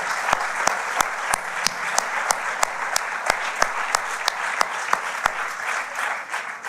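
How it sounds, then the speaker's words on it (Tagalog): Congregation clapping in praise to God at a Filipino church service, a steady dense wash of hands with sharper individual claps standing out on top, fairly loud and continuous throughout. "isa pang papuring palakpak para sa Diyos"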